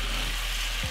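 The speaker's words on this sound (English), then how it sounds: "I'm just gonna fry up everything like this." Potato and carrot pieces stir-fried in a hot pan give a steady close sizzle with faint hissing throughout, and a brief low thump from the pan near the end.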